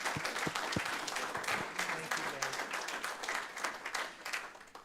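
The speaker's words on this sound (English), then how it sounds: "Let's give them another round of applause." Audience applause at a Menifee city council meeting, dense steady clapping from a room full of people with a few louder claps up close, held for several seconds.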